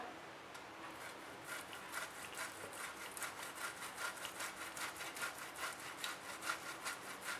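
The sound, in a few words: grating potato with a grater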